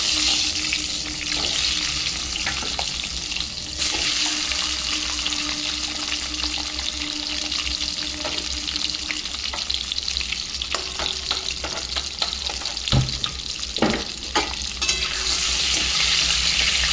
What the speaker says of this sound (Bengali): ডিমগুলো ভেজে নেব। কড়াই তেল বসিয়ে দিয়েছি।